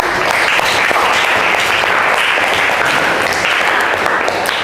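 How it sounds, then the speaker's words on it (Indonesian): Classroom applause from a seventh-grade class, dense steady clapping filling the whole stretch at close range with no talk over it. "Oke, beri aplaus untuk semuanya."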